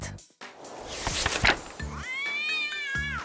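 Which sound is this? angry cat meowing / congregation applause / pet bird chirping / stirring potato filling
angry cat meowing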